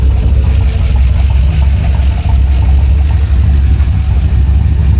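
A turbo LS V8 in a 2500HD pickup with a solid axle swap and new transmission runs on the road, a loud, close, continuous low rumble with a steady throb and one short dip midway.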